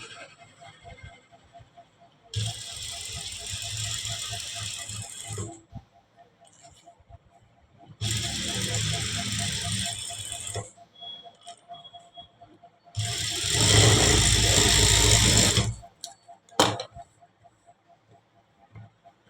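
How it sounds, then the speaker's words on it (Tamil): A sewing machine runs a distance stitch on a lined blouse in three separate bursts of close, steady whirring, with quiet pauses between them. "இப்போது டிஸ்டன்ஸ் ஸ்டிச் ஒன்று போட்டுடலாங்க."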